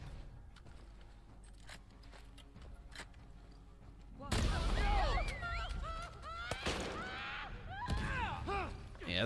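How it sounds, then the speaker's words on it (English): Bomb blast in The Last of Us Part II on survivor difficulty, a sudden loud boom midway through a quiet stretch of footsteps and clicks, followed by shouting voices and more heavy impacts, with a person talking over it. "Yeah, that bomb helped me out."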